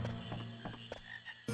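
A frog croaks in Final Fantasy IX, several short close croaks spaced unevenly over soft game music, ending with a brighter burst, and no one talking.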